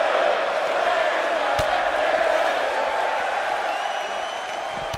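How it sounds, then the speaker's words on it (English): A virtual arena crowd at a WWE 2K18 wrestling match between Matt Hardy and Bray Wyatt roars steadily throughout, with one sharp thud cutting through the sustained cheering. "by the sound of this crowd, I think they're getting what they wanted"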